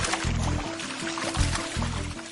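Common basilisk lizard running very fast across water, giving a rapid series of splashing, slapping patters with liquid churning, close and moderately loud.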